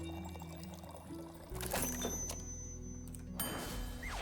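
A Southern Brawler drink being poured in a tavern: a quiet liquid splash and trickle with a couple of glassy clinks and thunks, faint and close.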